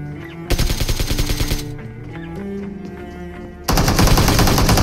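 Two loud bursts of rapid automatic fire from a UMP submachine gun in a shooting video game. A short volley comes first, a quieter stretch with game tones follows, then a second sustained burst runs to the end.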